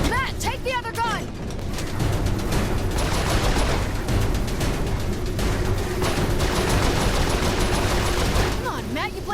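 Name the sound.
turret gunfire in the video game Saints Row IV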